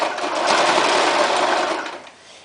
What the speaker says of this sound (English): just sew it straight across